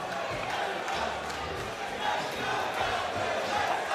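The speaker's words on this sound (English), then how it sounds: "They're cheering him on." Boxing crowd at the Melbourne Pavilion roaring steadily in support of a fighter during the final round, a dense continuous wash of cheering and shouts at even loudness throughout.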